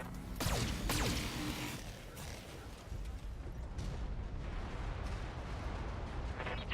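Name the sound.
mech weapons fire hitting turret in video game BattleTech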